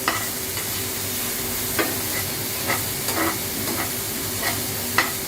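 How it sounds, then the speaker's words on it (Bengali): Vegetables for a Thai shrimp soup stir-fry in a pan under a steady, dense sizzle, with a spatula tapping and scraping at irregular intervals, close and fairly loud. "ও সবজিগুলো ভালো করে নেড়ে চেড়ে ভেজে নেব।"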